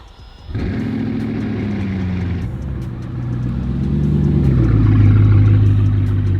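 A Bugatti's engine idles, settles, then revs up into a louder, rising drone that holds close and steady until a sudden cut at the end.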